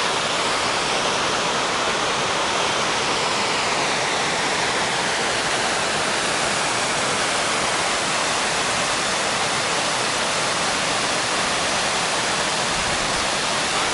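Waterfalls roar in the Goat Rocks Wilderness along the Pacific Crest Trail, a steady, dense wash of falling water that fills the whole stretch without a break, loud and close, with no voices.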